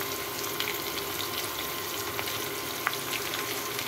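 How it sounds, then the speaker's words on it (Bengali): Eggplant and potato, seasoned with salt and turmeric, fry in oil with a soft, steady, fairly quiet sizzle, with a few faint ticks and light stirring sounds scattered through. "ওই তেলের মধ্যেই বেগুন আর আলুটা ভেজে নিব"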